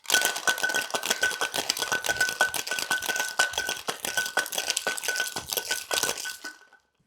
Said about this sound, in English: give it a good seal, and then shake for about 8 to 12 seconds